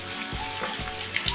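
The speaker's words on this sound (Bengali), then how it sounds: "পেঁয়াজটা সুন্দর লাল করে ভেজে নিয়েছি" Onions frying in a pan for chicken kosha give a continuous, close sizzle that stays steady through the brief moment.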